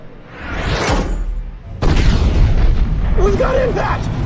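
A bomb strikes its target and explodes in Microsoft Flight Simulator: a rushing whoosh builds, then a loud, sudden boom lands midway and gives way to a sustained roaring rumble, with other game sounds and a voice-like tone over it.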